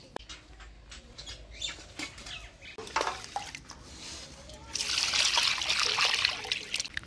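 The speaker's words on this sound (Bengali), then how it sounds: "আর আমি এদিকে চট করে মাংসটা ধুয়ে নিই।" Goat meat being rinsed by hand in water, with close trickling, splashing and patter that grows into a fuller running-water hiss, and no talking.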